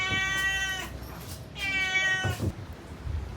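A cat in an outdoor setting meows twice, two drawn-out cries about a second apart, moderately close over faint background ambience.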